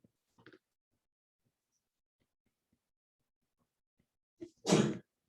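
A single sharp sneeze bursts out nearby in a classroom after a quiet stretch, preceded by a small intake of breath.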